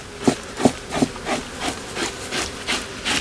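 A hide is scraped during fleshing on a wooden beam, giving about eight rhythmic, close rasping strokes at an even pace, the first few sharper and louder than the rest.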